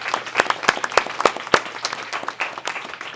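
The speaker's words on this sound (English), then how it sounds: "Everybody give a big round of applause to the candidates" An audience applauds the candidates at a Frederick City mayoral and city council candidate forum: dense, steady clapping with sharper individual claps standing out close by.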